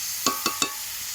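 Radish greens frying dry in a pan with a little sugar sprinkled on, three quick stirring scrapes over a steady soft sizzle, close and fairly quiet.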